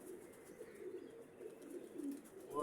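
A green pigeon with white eyes coos softly in a low, steady murmur, faint and somewhat distant against light outdoor background noise.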